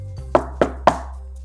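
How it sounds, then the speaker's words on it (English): Three sharp knocks on a door, evenly spaced and fairly close, each a crisp thud over a low steady hum, with no voices. "a knock on the door came"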